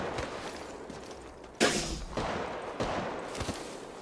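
Gunfire crackles in Apex Legends Mobile, fairly faint and distant, with a sharp burst followed by several further volleys spaced about half a second to a second apart over a low background hum.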